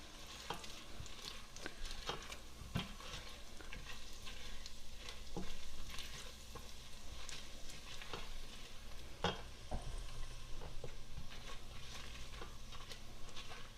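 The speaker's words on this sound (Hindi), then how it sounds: "अब हम इसमें 4-5 जो सूखी मिर्च होती हैं साबुत लाल, वो डालेंगे, और इनको भी थोड़ा हम फ्राई कर लेंगे।" Four or five whole dried red chilies frying in oil with browned garlic for chili chicken, a soft continuous sizzle with intermittent clicks and scrapes of stirring, fairly quiet and close.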